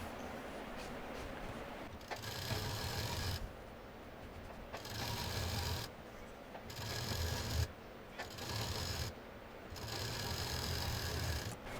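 A sewing machine joins cloth pieces for a multi-use mini sheet, running in several bursts of steady mechanical whirring and clatter separated by short pauses, close and clear with no talk.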